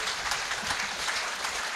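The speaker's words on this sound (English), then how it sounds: "A round of applause for all of them." A crowd claps steadily at a sports awards ceremony in a dense, sustained burst of applause without any voices.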